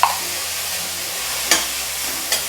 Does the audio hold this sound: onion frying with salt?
yes